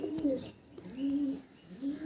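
Pigeons in a loft, including black dancing pigeons, coo in repeated low rolling calls, close by and soft, with faint higher chirps between the coos.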